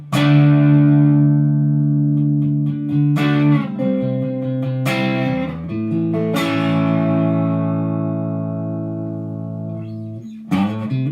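Fender American Professional Telecaster on its neck pickup through a Marshall Class 5 amp with a mild crunch pedal, several strummed chords ringing out and decaying with sustain, played alone.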